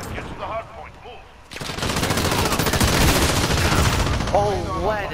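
Rapid automatic gunfire in the Modern Warfare video game erupts after a short lull and keeps up as a loud, dense, sustained rattle, with someone talking over it at the start and near the end.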